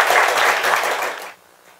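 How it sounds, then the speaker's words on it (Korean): At a labor union debate forum on the welfare state, the audience claps to welcome a speaker, a brisk burst of applause that stops abruptly after about a second. "우리 정성일 박사님 큰 박수로 모시겠습니다."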